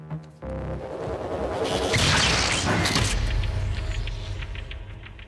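An electromagnetic prototype gun fires a demonstration shot in a TV drama scene: a loud, sudden blast that swells into a broad, roaring whoosh and then fades over several seconds.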